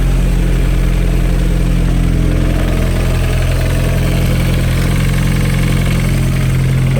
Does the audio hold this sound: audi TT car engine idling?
yes